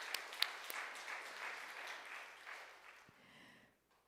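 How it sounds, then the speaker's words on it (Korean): Applause from a church congregation during a Wednesday sermon, broad clapping that starts strong, holds steady, then thins out and fades toward the end, with no voices over it. "영광의 박수 올려드리겠습니다."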